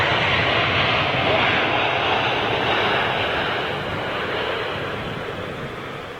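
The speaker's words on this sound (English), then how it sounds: "that was a little bit of a dodgy landing from Aer Lingus' 320 there" Loud, steady roar of an Aer Lingus Airbus A320 jet landing at London Heathrow Airport, a broad engine and air rush that fades slightly toward the end.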